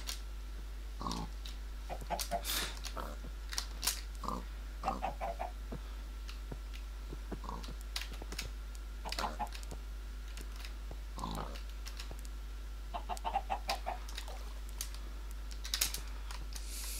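Chickens cluck in the Minecraft video game in short, scattered bursts, mixed in with quick clusters of keyboard typing and clicks against a faint low hum.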